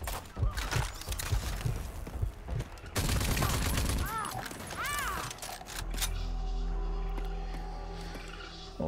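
Rocket launcher fire and explosions in the video game Rage 2: loud, dense bursts of blasts and crackling gunfire, then a lingering low rumble as the chaos settles.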